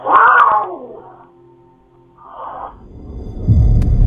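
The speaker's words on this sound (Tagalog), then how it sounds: "Ang daming pusa no?" Several cats meowing and caterwauling, a loud drawn-out yowl first, then a fainter cry midway, followed by low rumbling noise toward the end.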